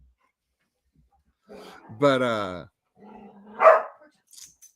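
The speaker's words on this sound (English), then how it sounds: "Jess just came upstairs and scared the dogs." Pet corgis bark indoors after being startled by someone coming upstairs, giving one strong, harmonic bark followed by a shorter yip, close and loud, with a brief spoken word between the barks.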